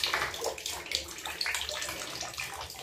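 Water splashes and runs steadily across a tiled non-slip ceramic bathroom floor as it is rinsed after scrubbing, a close, continuous wet hiss with small splattering bursts and no talk.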